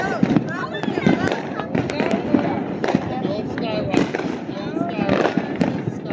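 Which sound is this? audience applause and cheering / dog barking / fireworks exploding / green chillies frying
fireworks exploding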